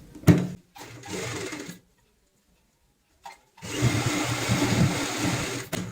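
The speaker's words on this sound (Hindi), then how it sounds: "इस कॉर्नर से यहाँ पे सिलाई से शुरुआत करेंगे, इस तरीके से मिलाते हुए" A sewing machine stitching the corner seam of a fabric cushion cover, running in short bursts and one longer whirring stretch with a silent pause between, close and clear without talk.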